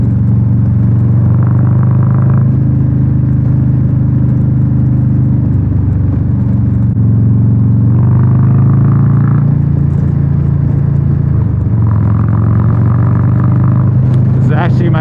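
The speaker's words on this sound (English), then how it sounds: "Try to take my motorcycle through there." Motorcycle riding through an off-road section, a loud continuous engine drone close up with throttle rising and falling in several surges, wind noise throughout, and a rider speaking over it.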